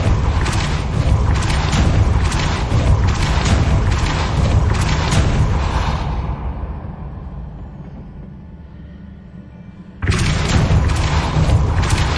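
A Depulso force spell cast in the game Hogwarts Legacy gives a heavy booming blast with a deep rumbling body that fades out over several seconds, then a second loud boom hits abruptly near the end.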